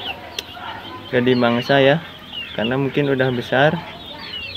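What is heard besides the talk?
chickens clucking on a farm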